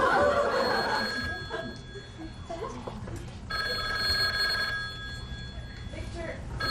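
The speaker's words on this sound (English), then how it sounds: "is that the phone?" An old-fashioned telephone bell rings in a stage play, heard as steady tones under background noise, light laughter and shuffling movement.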